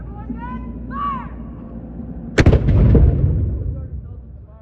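An artillery gun fires once in Halifax with a sharp, heavy boom that rolls into a long rumbling echo, preceded by shouted commands and followed by voices of people nearby.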